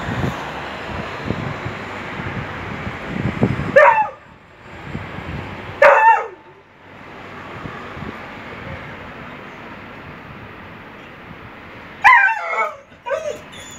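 A few dogs bark and yelp in short bursts at intervals, fairly close, over a steady background rumble of traffic or machinery.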